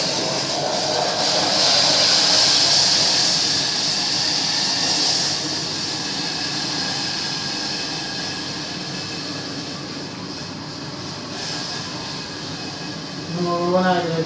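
A pan of syrup at a vigorous boil gives off a loud, steady hiss of steam that holds without a break and eases slightly toward the end.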